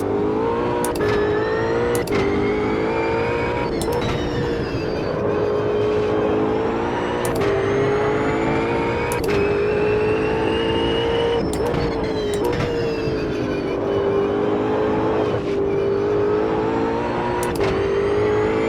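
A race car engine in the Automobilista 2 driving game drones steadily at high revs with rising and falling pitch as it shifts through gears, loud and close throughout with no talking.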